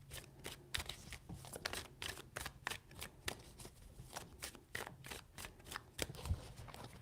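Tarot cards are shuffled by hand in a quick series of crisp, riffling slaps and flutters, close but quiet, with no talking.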